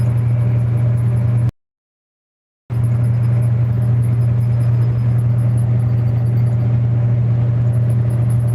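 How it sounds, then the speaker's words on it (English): Constant loud low drone inside a semi truck cab running on the highway, a steady engine and road rumble broken by a brief dropout of silence. "As my truck sits, it's already loud enough."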